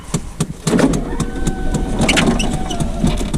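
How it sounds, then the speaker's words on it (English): A car's electric power window motor runs after the button is pressed, giving a steady whine over a mechanical, clattering background in a garage while a worn, sagging door hinge is being repaired. "That's a hell of a window motor."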